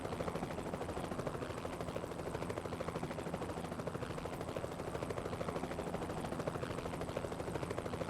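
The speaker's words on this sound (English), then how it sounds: "how do I get past the helicopter?" A helicopter in the video game X2: Wolverine's Revenge drones continuously with a fast, steady rotor chop, loud and close, alone without talk.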